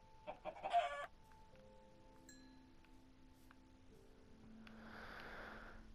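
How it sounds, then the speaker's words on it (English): A Minecraft chicken clucks in a few quick bursts near the start, followed by soft game ambience and a rising hiss of footsteps or movement toward the end, with no talking. "Oh, hey, chicken."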